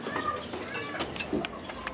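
Chickens cluck softly nearby in short, scattered calls over a low background murmur.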